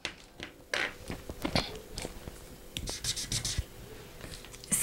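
A pen marks a fabric pattern taped to a table while a dress piece with a princess-dart bustier is drafted, giving several short scratchy strokes and taps close by with faint handling noise between them.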